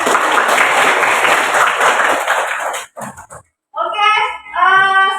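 Classroom applause, with students clapping together for about three seconds and then stopping abruptly, followed by a short pause and then voices talking.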